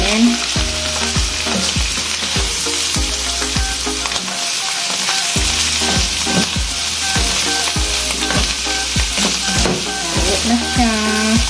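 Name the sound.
frying salpicao beef dish in a pan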